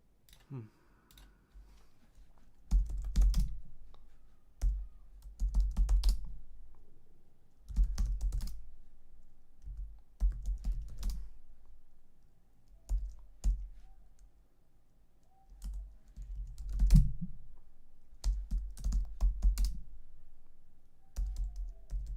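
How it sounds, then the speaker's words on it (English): Keystrokes on a computer keyboard come in repeated bursts of rapid, close clicking separated by short pauses, with faint voice-like sounds in between. "Now the typing."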